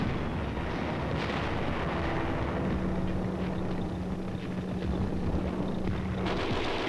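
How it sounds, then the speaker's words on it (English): Distant wartime battle noise from the Korean War, with a continuous low rumble of artillery and gunfire under a steady broadband roar, no distinct nearby shots, no talk. "Enemy fire is encountered."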